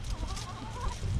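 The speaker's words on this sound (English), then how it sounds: "The smallest chicken took that whole thing and tried running off with it." Chickens scuffle over food scraps in a garden, close by, with a busy mix of scratching, flapping and short clucks throughout.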